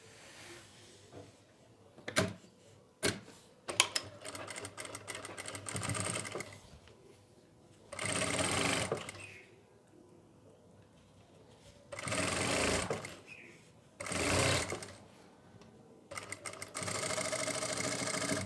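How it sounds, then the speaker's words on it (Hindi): A sewing machine stitches a ready-to-wear saree along a marked line, running in bursts of steady whirring with short pauses and a few sharp clicks between runs, close and clear with no talk. "इस तरह से हम इस निशान के ऊपर से सिलाई लगाएंगे"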